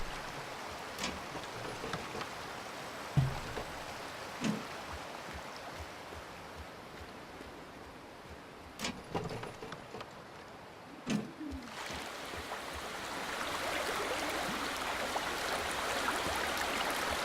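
Water flowing through an irrigation channel in the game Aporia: a soft, steady rushing wash that grows fuller near the end, with scattered quiet thumps and clicks earlier.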